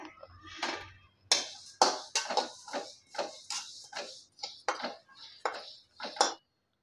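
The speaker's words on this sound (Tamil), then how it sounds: "இப்போ இது கூட ஜீரகத்தையும் நம்ம வறுத்து எடுத்துக்கலாம்" Cumin seeds dry roast in a pan over low heat. About a dozen distinct scraping and tapping strokes from a spoon against the metal pan come in a steady rhythm, close and fairly quiet, with silence between them.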